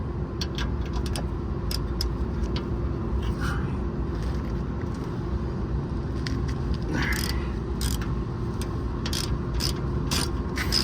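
Hand ratchet working loose a castle nut on the ball joint of a 1992–2000 Honda Civic, heard as steady repeated clicking under a constant low garage hum with no talk.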